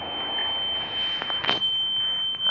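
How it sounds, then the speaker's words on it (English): A smoke alarm sounds indoors as a steady high electronic tone that runs throughout, with a few brief bursts of noise and faint background sounds. "It is smoke alarm or is it"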